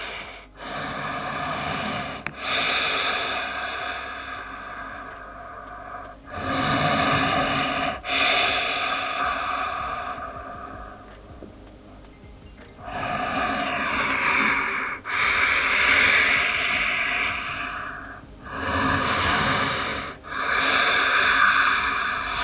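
Slow, deep breaths during a standing yogalates leg-strengthening flow, long airy inhales and exhales in repeated cycles of several seconds each, close and fairly quiet with no talk.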